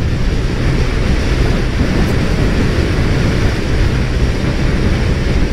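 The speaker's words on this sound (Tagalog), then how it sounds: "Grabe ang hangin guys." Strong wind roars steadily and loudly across the microphone of a rider on a Honda PCX 160 motor scooter, a constant dense rumble with no pauses and no voices.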